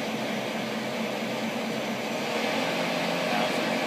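A Romi M20 CNC manual flat bed lathe runs with its spindle turning at about 500 RPM, giving a steady, fairly loud mechanical hum and whir that swells slightly near the end.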